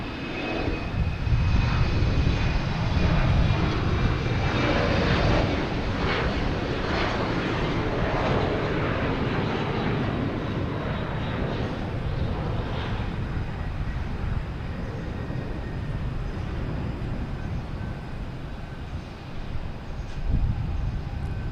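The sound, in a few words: JetBlue jet airliner at Logan Airport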